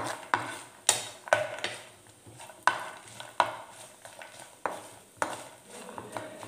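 Cashews, about a dozen, stirred in a pan while cooking paneer lababdar: a series of sharp, close scrapes and clacks of a spoon against the pan at an irregular pace, with a faint sizzle underneath and no talking.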